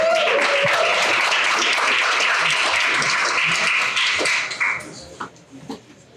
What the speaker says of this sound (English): Give a round of applause up for the first one.